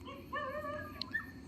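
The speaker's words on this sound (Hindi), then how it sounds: "कुत्ते भौंक रहे हैं" Dogs bark and yelp in a few short, whiny, tonal bursts, faint and somewhat distant, over a low background hum.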